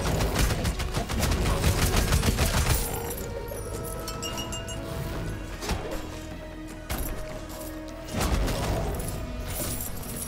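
Rapid, dense bursts of explosions and crashing impacts from Rogue Legacy 2 gameplay, loud and continuous with repeated sharp blasts throughout.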